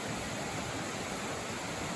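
Rushing water of the Upper Cascades in Tasmania forms a dense, even hiss, a steady broadband roar heard alone with no voices.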